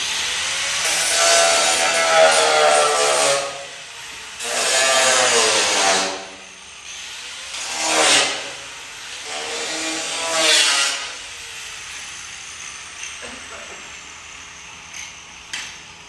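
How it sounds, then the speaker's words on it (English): A grinder takes off tack welds on a car door skin in four loud, close bursts of harsh grinding, each winding down, followed by quieter metallic clinks. "So I usually grind them off"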